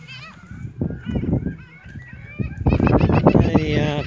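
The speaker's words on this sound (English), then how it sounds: "can you hear the yeah, the gulls? Yeah, you can hear the gulls." Gulls call out by a lake on a bright day, their honking, squawking cries repeating and growing louder and busier toward the end, with voices mixed in.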